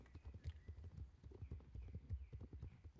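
Video game horse hooves clip-clopping in a steady, close rhythm, with soft thumps throughout and a faint bit of background noise.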